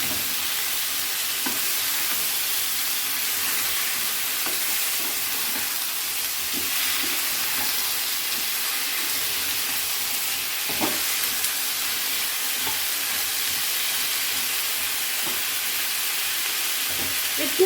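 Mixed winter vegetables sizzling and frying steadily in a pan while being stirred, with soft scraping bumps over a constant hiss, close and fairly loud.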